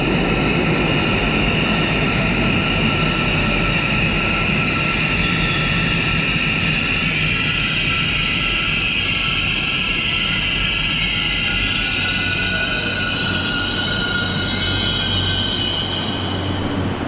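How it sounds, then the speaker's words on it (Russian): An Almaty Metro train rumbles loudly into Sairan station, wheels squealing high and continuous over the heavy roar, with no voices. "А вот и поезд прибывает на станцию."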